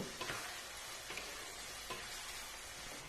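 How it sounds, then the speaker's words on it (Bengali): Salted onions fry in a pan for chicken biryani, a quiet continuous sizzle with occasional soft stirring scrapes. "এবার পেঁয়াজটাকে ভালো করে ভাজব"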